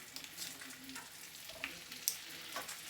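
Bacon fries in a pan with a steady, soft sizzle and scattered small pops and crackles, heard alone at low volume.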